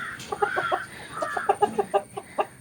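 Several chickens cluck close by inside a coop in quick, uneven bursts, soft repeated clucks overlapping over a faint background hum.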